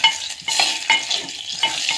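Dal in a pot is stirred and mashed with a wooden masher, giving wet, rhythmic scraping swishes in several strokes, close and alone.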